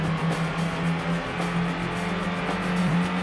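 Race car engine whining in the PlayStation game Ford Racing as a rival car passes, a continuous buzzing motor tone with steady pitch, loud and alone.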